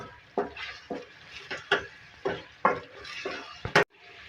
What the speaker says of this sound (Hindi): अब इसको कुक करेंगे, मिक्स करेंगे।